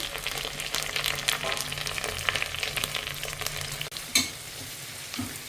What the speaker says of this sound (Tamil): வெங்காயம் நல்லா வணங்கிடுச்சு கொஞ்சம்